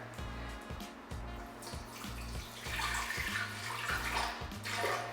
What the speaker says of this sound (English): you want 8 ounces of water, put it in your blender